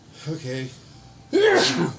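A single sharp sneeze bursts out close by, following a brief spoken word.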